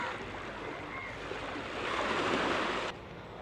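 Sea waves off Kochi heard from a cruise ship, a broad steady wash of surf and water noise that swells louder midway and then drops slightly, with no voices.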